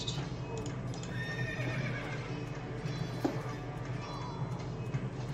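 Horses neigh and whinny in the game Fallen Empires over a busy bed of hoofbeats and battle noise, moderately loud and continuous with no talk.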